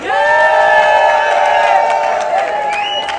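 A rally crowd cheers, whoops and applauds loudly and steadily for Erica at a healthcare workers' event, the noise held at full level throughout with raised voices on top.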